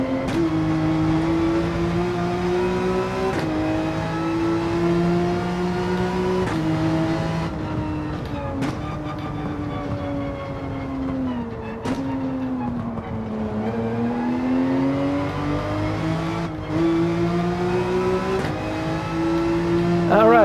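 A Porsche GT3 race car on hard tires pushes through a fast lap in a racing video game, its engine revving up and down through gear changes with a steady, loud drone while a driver talks over it.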